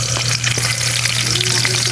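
Onion hits a hot pan for ginisang upo and sautés with a loud, dense, continuous sizzle that stays even throughout, with nobody talking over it.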